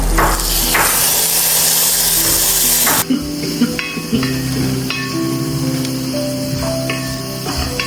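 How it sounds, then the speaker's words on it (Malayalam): Shallots, curry leaves and masala powder drop into hot oil, a loud hissing sizzle for about three seconds that gives way to quieter crackling and spitting alongside clinks and a few tonal kitchen noises. "ഇപ്പൊ എണ്ണ ചൂടായിട്ടുണ്ട് നമുക്ക് ഇതിനകത്തോട്ട് ചെറുവിള്ളിയും കറിവേപ്പിലും പൊടി ഇതിനകത്തോട്ട് മസാലപ്പൊടി ഇതിനകത്തോട്ട് ഇടുകയാണ്"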